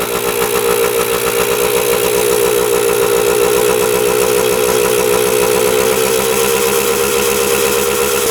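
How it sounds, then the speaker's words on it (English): A two-stroke motorcycle engine with its carburettor running open with no air filter, idling steadily up close with a loud, continuous rapid throb throughout. "It's idling."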